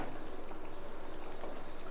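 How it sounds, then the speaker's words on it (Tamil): Low, soft bubbling of fish gravy with coconut milk simmering in a pot, a steady faint gurgle with no voices. "நல்லா கொதித்து பக்காவாக ரெடி ஆகிடுச்சு."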